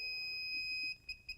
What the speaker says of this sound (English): Still getting a beep on 18. Full beep on 26.